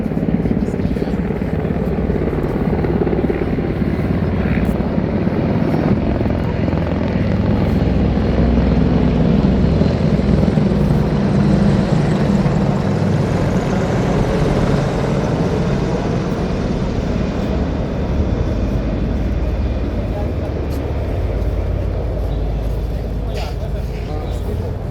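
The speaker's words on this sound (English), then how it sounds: "These fierce attack helicopters are the face of modern machines" Attack helicopters in a Republic Day parade flypast rehearsal thunder past with a heavy, continuous rotor drone that swells and slowly fades, loud and close throughout.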